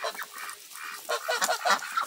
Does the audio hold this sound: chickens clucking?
yes